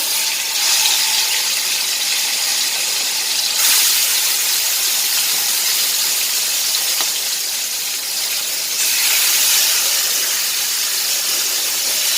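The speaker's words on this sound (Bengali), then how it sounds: "এই যে অসময়ে ইলিশ মাছ, তাই একটু এপুট টুকুট ভেজে নেবো" Hilsa fish frying in hot oil, a loud, bright, continuous hissing sizzle that surges and eases in waves over several seconds, with no talking.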